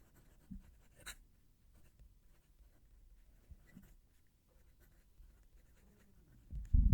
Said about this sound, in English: I'm going to move the mic down to the paper so you can hear the pen write.